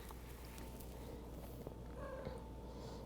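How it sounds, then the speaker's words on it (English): A house cat purrs steadily close by at a yoga class, with a soft meow or two rising over the low rumble and quiet room noise. "Seems we've had a cat join us."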